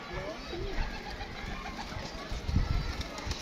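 Pigeons coo softly amid a busy outdoor background, with faint rustling and a few louder bumps toward the end.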